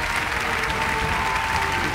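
Audience applause at a fifth-anniversary musical performance for a television station, steady dense clapping filling the hall throughout with no pauses.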